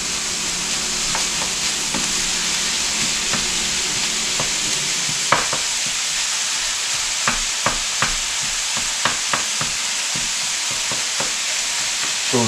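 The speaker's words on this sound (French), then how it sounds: "Je vais continuer à faire cuire ma viande jusqu'à temps qu'elle est cuite" Moose meat fries with onions, mushrooms and garlic in a pan, giving a loud constant sizzle with scattered stirring scrapes and light utensil taps, close up and with no voices.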